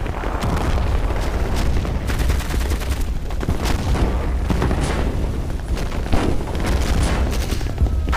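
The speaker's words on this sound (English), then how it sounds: "Move my howitzers up pretty close, and there's enough around to volley of Katyusha rockets" Howitzer fire and a volley of Katyusha rockets in a World War II strategy game set around Küstrin, heard as a dense, continuous barrage of booms and blasts that runs loud throughout with no talk.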